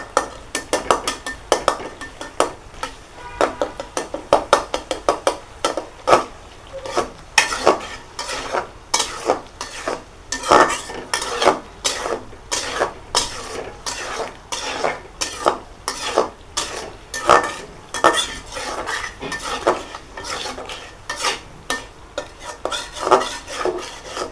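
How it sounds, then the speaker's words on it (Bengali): Onions stirred in a frying pan over medium heat give a steady, close run of rhythmic scraping strokes over a constant sizzle, continuing without pause. "এইভাবে পেঁয়াজগুলো একটু নেড়ে ছেড়ে দিবেন।"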